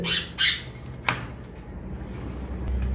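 Pet conure parrots, sun and green-cheeked, let out two sharp squawks close together, then a third shorter cry, before settling into quiet room noise.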